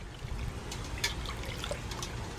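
Barely warm water is poured into a container to make soapy cleaning water, giving a faint, steady trickle and splash that runs briefly with no voices.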